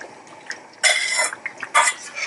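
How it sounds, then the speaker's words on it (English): Okra stew with fish, cooked with a little bicarbonate of soda, is stirred in a pot, giving a few bright clattering scrapes of a utensil against the pot with soft wet sloshing between, close and alone. "be careful to stir it and not break the fishes"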